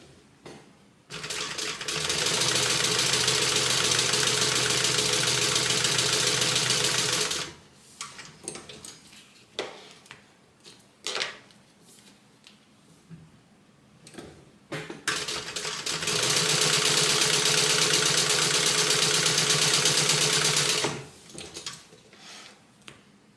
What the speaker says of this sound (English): let's go ahead and stitch our strap connector